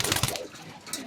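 Cookie, a pet pigeon, gives a short, close coo with a soft throaty burst at the start and a brief flutter-like rustle near the end, all within about a second.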